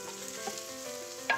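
A spoon stirs tomato passata into braising short ribs in a hot pan, giving a soft steady sizzle with light scraping and a small clink near the end.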